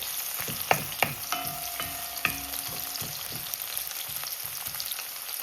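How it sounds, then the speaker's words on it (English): Onion sizzles and crackles steadily in a pot as it caramelizes, with a few sharp clinks of a utensil against the pot early on and a faint ringing tone partway through. "add the onion first. I like to caramelize it."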